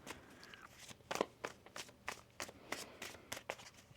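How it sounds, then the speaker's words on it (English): A deck of tarot cards is shuffled by hand, a quiet close series of about a dozen crisp riffling bursts in a loose, regular rhythm. "One more shuffle."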